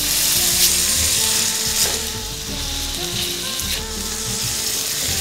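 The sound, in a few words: sautéing with butter in a pan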